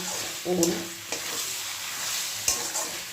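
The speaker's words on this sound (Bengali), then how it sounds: "মশলাটা ভালো করে কষি নিচ্ছি সবজির সাথে" Spice masala fried and stirred with kohlrabi and potato for a Bengali vegetarian curry, a steady oily sizzle broken by scraping spatula strokes against the pan, close and clear.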